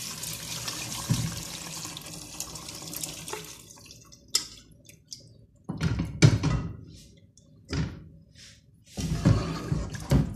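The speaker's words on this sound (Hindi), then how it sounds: "ये अब मैं उसमें डाल रही हूँ यखनी।" Yakhni broth poured from a pot into fried masala and beef for pulao, giving bursts of splashing liquid with pauses between pours, close by and fairly loud.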